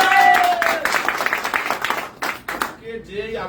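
An audience at a DXN branch program gathering in Dammam claps in a dense, fairly loud burst that thins out and fades into scattered claps after about three seconds.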